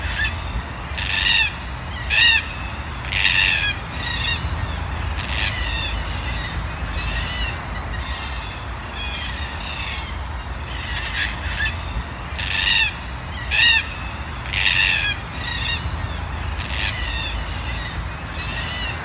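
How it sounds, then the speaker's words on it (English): Ravens and kookaburras call in a park, with repeated bursts of harsh cackling calls coming in rhythmic groups over a steady outdoor background hum. "I've got a clip I'll insert so that you can hear some of my bird life."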